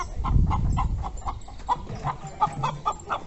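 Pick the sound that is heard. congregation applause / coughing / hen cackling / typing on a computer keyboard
hen cackling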